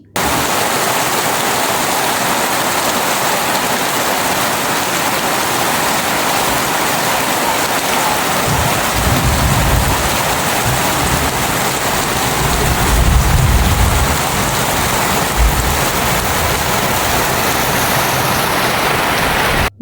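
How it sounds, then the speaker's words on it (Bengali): Heavy morning downpour pours steadily and loudly outside, a dense unbroken hiss of rain with low rumbling swells rising through the middle stretch, and no voices. "বৃষ্টির আওয়াজটা শুনেই হয়তোবা তোমরা বুঝে গিয়েছো বৃষ্টি ঠিক কতটা জোরে হচ্ছে।"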